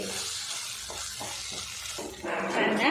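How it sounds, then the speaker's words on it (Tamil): Radish pieces sautéing in a pan over a low flame, with a steady soft sizzle and a gentle stir that grows louder near the end. "முள்ளங்கி நல்லா வதக்கி விட்டுருவோம் அஞ்சு நிமிஷம் லோ ஃப்ளேம்லேயே முள்ளங்கி நல்லா வதக்கி விட்டுக்கலாம்"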